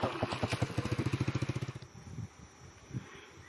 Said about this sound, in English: Lots of people on motorbikes today.